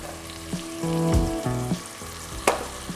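Fried onions go into a pan of okra (bhindi) cooking for a Pakistani dish, giving a steady close sizzle with stirring clatter and a few sharp utensil knocks, no voices.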